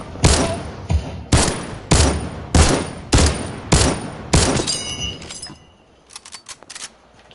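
Shotgun blasts in a PS4 video game, about seven loud sharp reports in a steady rhythm roughly every half second to second, followed by a scatter of quieter clicks and small impacts.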